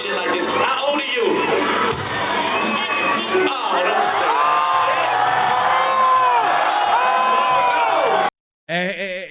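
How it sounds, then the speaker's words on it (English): A large concert crowd reacts with a loud, sustained mix of oohs, boos, cheers and shouts, a dense wall of voices lasting most of the stretch before cutting off abruptly near the end. "Is the crowd saying "oh" or is they saying "boo"? It's like a mixture."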